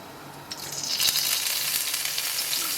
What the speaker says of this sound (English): Once the anchovies are frying nicely